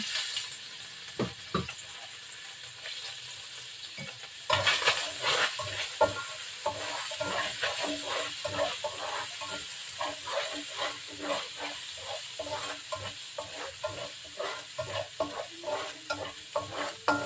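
Garlic sautés in a hot pan with a constant crackling sizzle, loudening after a few seconds as it is stirred repeatedly with rhythmic scraping strokes, near and busy, with no speech.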